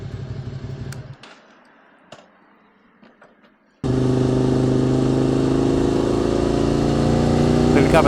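A QJ SVT 650X motorcycle with a new exhaust, a quiet idling rumble with light clatter, then after a pause the engine bursts in loud and close and holds a steady, strong drone to the end.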